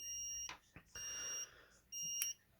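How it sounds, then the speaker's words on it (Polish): A time-delay relay's buzzer sounds in three short, thin electronic beeps separated by brief pauses, close and fairly quiet, with faint clicks between them. "Sygnał dźwiękowy, uruchomienie przekaźnika na chwilę, na regulowany czas"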